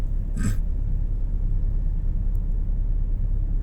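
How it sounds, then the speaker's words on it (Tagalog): Dense road traffic in Pasay hums as a steady low rumble of idling and creeping car engines, close and continuous, with a brief hiss-like burst near the start. "Medyo matraffic yung mga idol."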